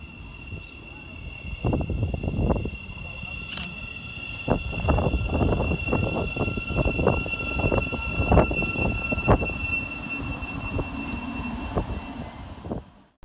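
A Great Northern Class 717 electric train, unit 717024, pulls into Bowes Park station, a steady rumble with rhythmic clatter of wheels over rail joints and a high whine, fairly loud and close.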